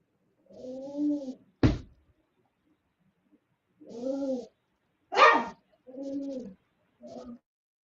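A dog barks a few times at close range. Separate yelps and barks are spread over several seconds with silence between them, and there is no talk.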